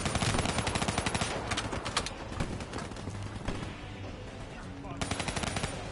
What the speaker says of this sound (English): Who just shot me?